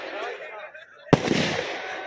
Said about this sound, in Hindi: ये देखो भाई पटाखे भी फोड़ने लगे